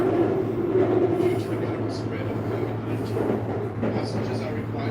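A BTS SkyTrain running in Bangkok, heard from inside the carriage as a steady low rumbling hum with rolling rail noise throughout, faint voices and small sounds drifting over it.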